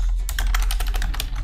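Rapid, close keystrokes clatter on a computer keyboard while text is entered in editing software, a quick run of light clicks over a low steady hum, with no talking.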